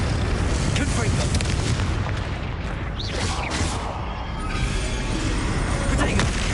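Confringo blasting spells explode during combat in Hogwarts Legacy, a loud, continuous rumble of booms and crackling blasts with voices shouting over the din.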